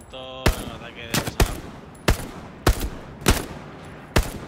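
Machine gun fire in the World War II shooter game Hell Let Loose crackles in six sharp bursts spaced roughly evenly apart, loud and close, with a brief musical tone at the start.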